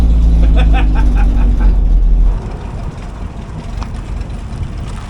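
An off-road build car with no muffler blasts a loud, raw, rumbling engine note up close for about two seconds before it drops to a lower, rougher running sound.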